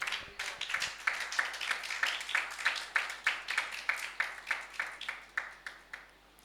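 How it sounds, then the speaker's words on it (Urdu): A church congregation at a Sunday service claps together in a steady rhythmic beat, about twenty sharp, even claps in quick succession, moderately close and with no talk over them. "کلیسیا یسوع مسیح کے لیے تالیاں بجائیں"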